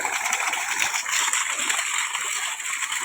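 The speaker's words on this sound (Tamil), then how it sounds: "தண்ணி போகுதுங்களா?" Water from a solar-powered pump gushing and splashing into a farm field channel, a steady close rush of flowing, sloshing water with no break.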